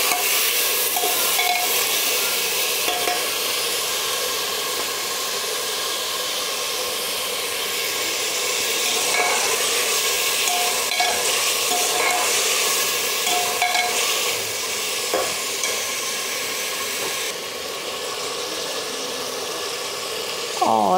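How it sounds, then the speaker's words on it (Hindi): Potatoes and peas being stir-fried in a pan for a matar paneer pulao: a continuous close sizzle with intermittent scraping stirs, running steadily with faint tonal background sounds. "तो सब्जियों को हम अच्छे से भून लेंगे पहले"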